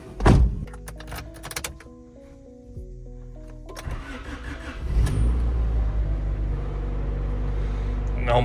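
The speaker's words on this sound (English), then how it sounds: "time to put oil in it, throw the exhaust on and start it" A repaired Honda Civic cranks and its engine starts, a short starter whir followed by clunks and then a steady, loud idle with a slight rev, recorded up close.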